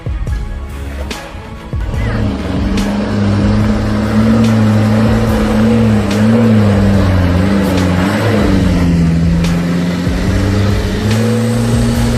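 White car's engine straining and revving steadily while climbing a steep dusty slope, loud and close, with pitch wavering as it labours, a few faint clicks and background voices underneath.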